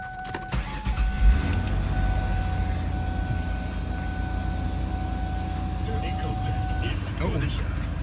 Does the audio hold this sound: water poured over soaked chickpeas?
no